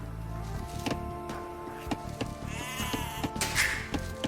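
Sheep bleating in the strategy game Age of Empires, several wavering bleats overlapping at moderate volume over a busy backdrop of game music and ambience.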